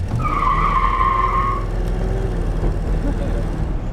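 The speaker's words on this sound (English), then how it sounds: "I'm gonna give it some gas. I'm actually gonna put it in first." A 1969 Ford Ranchero fitted with a Holley carburetor accelerates in first gear with a steady, loud engine roar, while a brief tire squeal rises early on and then fades under the constant drone.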